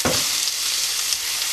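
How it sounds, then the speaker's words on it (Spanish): Chopped garlic and onion frying in hot oil in a pan, a steady loud sizzle with a brief stirring burst at the start, no voices. "Y lo vamos a sofreír como siempre con un poquito de sal"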